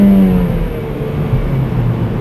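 A manual-transmission car engine, stuck out of gear after a missed shift, holds a loud, steady high-RPM drone close by that eases slightly as it goes on.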